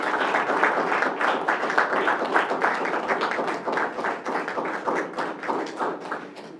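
Columbus City Schools staff are applauded at a Board of Education meeting with a round of clapping from the room, a steady, moderately loud patter that eases slightly toward the end.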